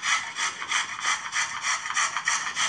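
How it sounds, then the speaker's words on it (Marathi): Carrots rubbed back and forth on a medium-hole kitchen grater, a close, steady rhythmic rasping with roughly three to four strokes per second and no voices. "आता त्या मध्यम भोक असलेल्या किसणीवर मी हे गाजर किसून घेते."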